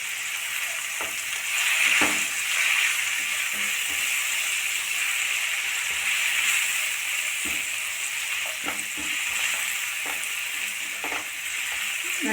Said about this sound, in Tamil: உப்பு சேர்த்து நல்லா வதக்கலாம்.